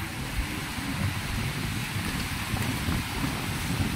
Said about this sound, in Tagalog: Kasi may hangin na naman, kaya nagkakaalon na naman.